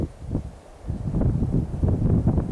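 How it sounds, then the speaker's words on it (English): Wind blows outdoors on a cool morning in the Western Australian bush, making a soft, gusting rumble and rustle that rises and falls for a few seconds, with no voices. "The wind's blowing."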